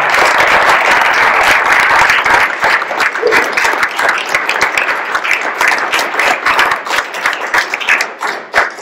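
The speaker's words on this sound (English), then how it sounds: "So I want to give Lisa a round of applause" Applause from an audience at a parish meeting, a dense steady wash of many hands clapping for about nine seconds, loud and close, easing slightly toward the end.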